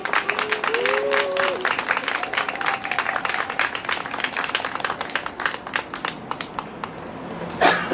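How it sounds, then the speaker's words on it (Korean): A church congregation at an outdoor revival prayer meeting in Yeouido plaza applauds with dense, sustained clapping as the pastor comes forward. A brief vocal sound rises over the applause. "우리 목사님 나오실 때 축복과 사랑의 박수 부탁드리겠습니다"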